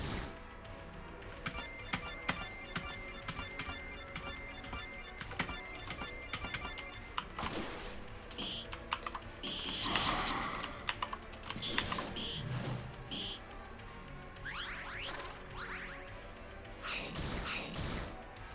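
A loud computer keyboard clatters with rapid, uneven keystrokes, bursts of fast typing broken by short pauses, close to the microphone with some clicks and mechanical rattles.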